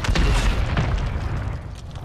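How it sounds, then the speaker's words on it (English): Warzone 3 combat audio with a sustained roll of booming gunfire and explosions, loud and dense throughout with no clear gaps between blasts. "You hear the gunshots?"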